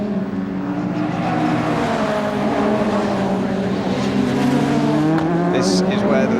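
A Ford Sierra Cosworth race car blasting down the straight at Snetterton, engine note loud and sustained with rising and falling tones as it passes, heard beneath a commentator's voice.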